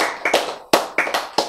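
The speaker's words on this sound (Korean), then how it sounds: "박수!" A few sharp, separate claps ring out during a Korean church lecture on love and the flood, roughly five close, loud strikes in an uneven rhythm, with no talk over them.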